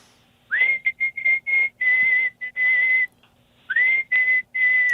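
A person whistles a lively tune at a live public radio broadcast, clear, close and bright, in quick phrases broken by short pauses and two longer held notes.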